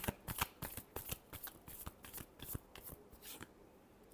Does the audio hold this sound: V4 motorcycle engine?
no